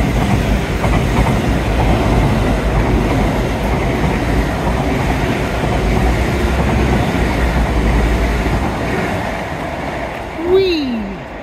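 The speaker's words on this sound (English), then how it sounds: "I think there's a fast train gonna come past in a minute." A fast train rushes past close by, a loud continuous roar and rattle of wheels on rails that holds steady for several seconds, with a brief rising squeal near the end as it clears.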